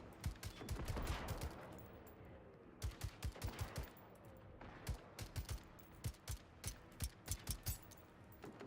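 Silenced gunfire in a video game: quiet, muffled shots arrive in irregular single pops and short bursts over a faint background, with no talking.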